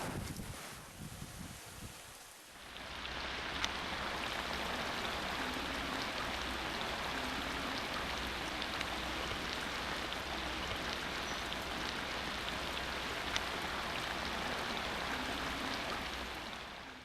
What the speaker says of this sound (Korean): 오늘 우리나라의 전반적 지역에서 비와 소나비가 내렸습니다.